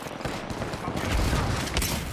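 Gunfire from Apex Legends cracks out in a dense, loud cluster of close shots over a couple of seconds, with no voices.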